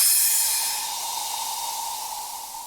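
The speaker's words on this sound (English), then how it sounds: "I made a crash cymbal using these two different audio tracks." Layered crash cymbal sample built from two tracks, a bright initial splash that eases into a long, hissy shimmering tail with a steady ringing tone, gradually fading.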